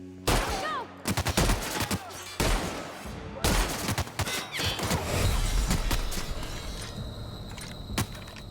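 Gunfire in a video game comes in loud, sharp bursts of rapid shots separated by brief pauses, then gives way to a lingering rumble of battle noise.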